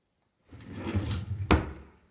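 An old kitchen drawer in poor condition, gunked around the edges, slides open with a rough scraping rumble and shuts with a sharp knock, close and alone in a quiet room.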